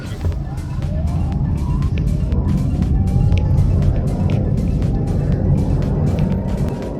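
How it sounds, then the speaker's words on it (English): A Citroen eC3 electric car launches hard on a track, a rising electric whine climbing in pitch over loud road and wind roar as it accelerates. "Now we'll try launching this eC3 on this track"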